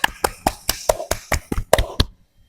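A handful of people clap for a student guest at a school event, about ten distinct claps in an irregular rhythm, close and clear, then stopping abruptly into silence.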